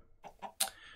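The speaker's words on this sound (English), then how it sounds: "It's a chicken! Oh, it's a couple of chickens." A couple of Minecraft chickens on a Skyblock one-block island give three quick, faint clucks in a row, the last one slightly sharper, in a short, otherwise quiet moment.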